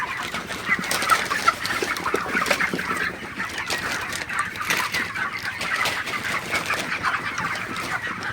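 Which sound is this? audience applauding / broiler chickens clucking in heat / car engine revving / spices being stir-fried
broiler chickens clucking in heat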